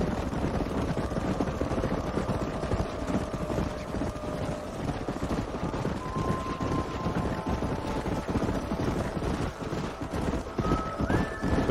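Horses gallop as a mounted posse in the video game Red Dead Redemption, continuous overlapping hoofbeats clattering at a steady pace, with faint tonal music lines running underneath.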